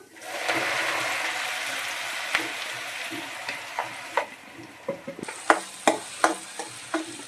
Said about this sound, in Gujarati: હવે આપણે હિંગ મૂકી લસણનો વઘાર મારી લેશું.